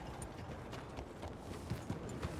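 Horse hooves clip-clop in a steady, fairly quiet rhythm in Red Dead Redemption 2, with soft footfalls repeating alongside faint background game ambience.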